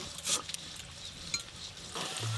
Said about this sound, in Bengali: আলুটা একটু ভালো করে ভাজা হোক